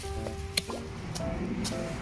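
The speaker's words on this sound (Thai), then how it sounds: "ค่ะเราใช้น้ำหยดนะคะ" Water from a garden drip irrigation line drips into soil, with a few faint, irregular wet plinks and squishy drops over a quiet outdoor background.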